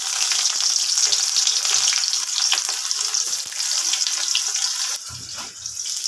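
Onion and five-spice (panch phoron) frying in mustard oil: a loud, close, hissing sizzle that continues unbroken, with faint stirring and a brief change in texture near the end.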